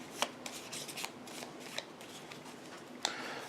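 Game cards for the Vertium board game are shuffled by hand close up, a quiet run of riffles and soft scrapes punctuated by a few sharp snaps.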